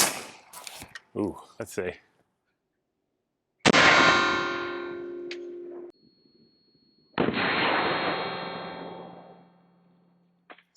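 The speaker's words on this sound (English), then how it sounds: "it's not good when you shoot a plate with a rifle round and it doesn't jump" A green-tip pseudo armor-piercing rifle round from a 10.4-inch barrel strikes a Tacticon multi-curve armor plate: two loud, sharp blasts, each with a long ringing metallic tail, after a brief stretch of people talking.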